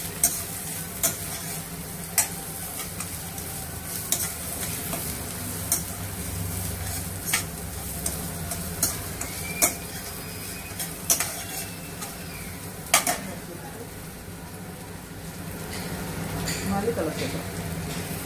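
Onions and mint sauté in a hot pan for mutton leg paaya, a steady close sizzle with occasional sharp clicks of a spoon stirring against the pan.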